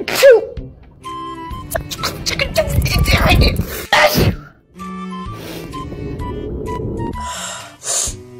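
A person sneezes loudly and explosively indoors, with gasping breaths and vocal noises around the sneeze, close to the microphone.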